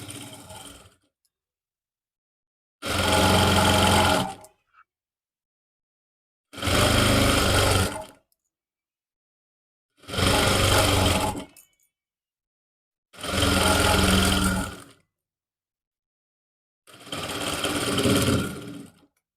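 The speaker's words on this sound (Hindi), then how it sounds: "अभी एक सिलाई और लगा देंगे" A sewing machine stitches a suit sleeve in five separate loud runs of about one to two seconds each, with short silent pauses between them.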